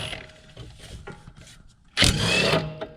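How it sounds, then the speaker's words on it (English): An impact wrench with a 17 mm socket spins off a sway bar nut in a single loud, rattling burst lasting about a second, preceded by quieter clicks and handling noises from close by. "I'm just going to take an impact with a 17 mil socket"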